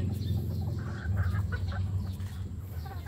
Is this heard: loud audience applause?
no